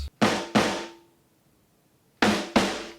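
Two pairs of recorded punches land as heavy, dull thuds added to a song, each pair quick back to back, separated by a second of near silence, close and loud.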